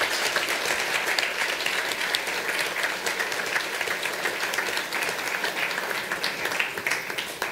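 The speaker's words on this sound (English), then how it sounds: "we owe a personal round of applause to the coach" Sustained applause from a city council meeting audience honoring a coach, a dense steady clapping that holds at even loudness for the whole stretch with no talk over it.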